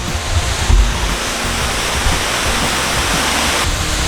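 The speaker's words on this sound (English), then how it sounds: "You can barely see the falls in this corner." A waterfall in fog at Red River Gorge, a steady, full roar of rushing water with occasional low thumps, like wind against the microphone.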